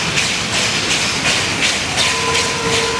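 A descending freight train with three SY steam locomotives, one at the front and two at the rear, rumbles by loudly with a steady hiss, rhythmic wheel clatter and a thin squeal near the end.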